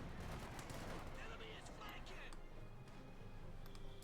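Sherman tanks fire on Grenadiers in a Company of Heroes 2 battle: a steady, dense wash of distant gunfire and explosions with no quiet gaps, running under talk throughout.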